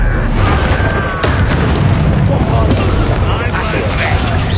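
Heavy magical explosions from a Confringo blast spell in Hogwarts Legacy on PS5, a dense run of loud, booming bursts that roll continuously through the fight with game noise around them.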